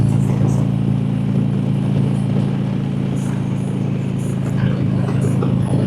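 A motorcycle engine idling and running steadily nearby, a continuous low rumble with a slight rise in revs toward the end, with faint voice-like sounds in the background.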